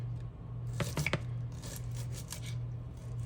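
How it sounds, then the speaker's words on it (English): A knife slices egg roll ingredients on a cutting board, a few quick crisp cuts clustered together then lighter scattered strokes, close and clear over a steady low kitchen hum. "So you can slice them as large or as small as you want them"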